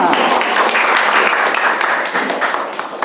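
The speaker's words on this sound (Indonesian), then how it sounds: "Oke, tepuk tangan untuk kita semua." A classroom of schoolchildren bursts into loud, sustained clapping, dense and steady throughout before easing slightly near the end.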